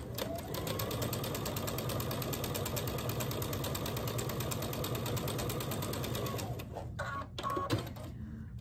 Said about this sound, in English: and then stitch a quarter inch